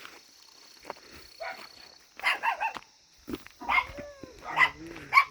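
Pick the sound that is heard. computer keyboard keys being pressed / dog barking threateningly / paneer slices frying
dog barking threateningly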